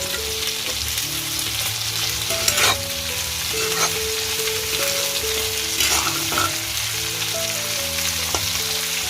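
Onion and tomato masala frying in a pan for a bangda fry and prawn sukka, a dense continuous sizzle with intermittent scraping and stirring strokes, close and fairly loud.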